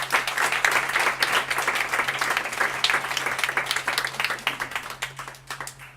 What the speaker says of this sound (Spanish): Tenemos aquí un aplauso para el técnico